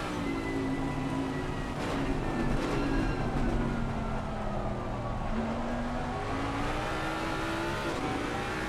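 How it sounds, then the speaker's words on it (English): A Jaguar race car in a sim racing game, driven in the rain at Bathurst with traction control off, holds a steady engine drone with wavering pitch as it struggles for grip, continuous and loud throughout. "you could hear him struggling for grip there with no TC in the rain"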